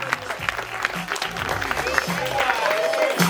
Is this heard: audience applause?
yes